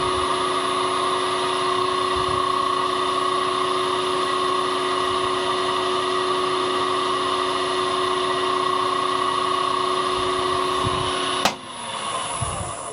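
A wood lathe turning a pen blank at 1600 RPM gives a steady, loud mechanical hum and whine that runs without a break, then drops off sharply near the end as the lathe winds down.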